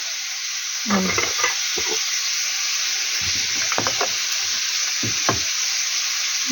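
Food frying in a pan, a constant bright sizzle with occasional spatula scrapes and stirring knocks over it, close and fairly loud.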